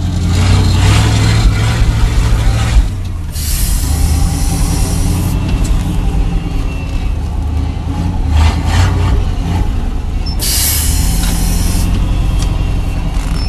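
A 1969 Chevy truck engine runs with a rough, steady idle, its brake booster holed, with hissing bursts and slight surges in revs, loud and close.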